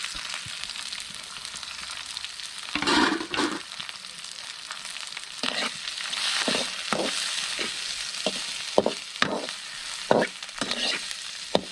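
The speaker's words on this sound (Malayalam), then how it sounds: "നമുക്കൊന്ന് ഇളക്കി കൊടുക്കാം കേട്ടോ." Ginger, green chili and grated coconut sizzle in a hot pan as a spoon stirs them, with scraping strokes that grow busier and more rhythmic toward the end, close and fairly loud.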